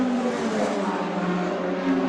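A DTM touring race car at Zandvoort in 2011 drones steadily at high revs, a dense, loud engine roar holding nearly constant with a slight swell at the end and no voices.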